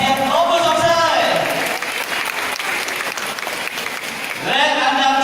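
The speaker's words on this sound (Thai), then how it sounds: "ขอเสียงปรบมือส่งเสริม" An audience applauds a prize winner at an awards ceremony for top-ranked students in an academic competition. The clapping is steady and full for about five seconds, with a voice speaking over it at the start and again at the end.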